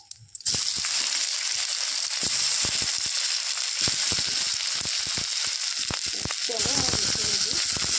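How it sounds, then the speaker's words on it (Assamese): Potatoes tipped into hot oil set off a loud, sudden sizzle that stays steady and crackling for the rest of the stretch. A faint voice comes in near the end. "এইখিনি তেলতে মই আলুখিনি দি দিলোঁ"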